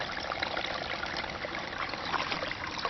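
Water running steadily into a 6-gallon water can, a continuous trickling, splashing flow close by with an even level throughout, no voices over it.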